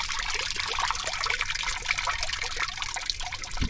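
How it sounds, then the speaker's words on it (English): Water draining steadily out of a gem sieve at a diamond-hunting park, a continuous close trickling and splashing wash with no pauses. "pull it up slowly at an angle and let all the water run out"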